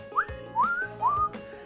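A guinea pig gives three rising whistles in quick succession, close and clear, each a short upward-sliding squeal with a steady pause between them, no voices present.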